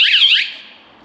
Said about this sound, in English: they're going to be alerted to the alarm, and it's going to obviously deter them